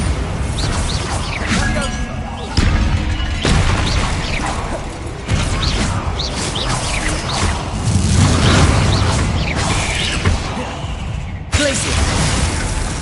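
Bombarda spell explosions from Hogwarts Legacy, a string of loud booming blasts and whooshes mixed with other spell effects, repeating throughout with brief gaps and dense game noise.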